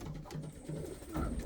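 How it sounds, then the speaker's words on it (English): Pigeons coo softly in a breeding loft, a few faint, low, rhythmic coos repeating close together. "I noticed this black one here is become a bit more active, cooing and stuff."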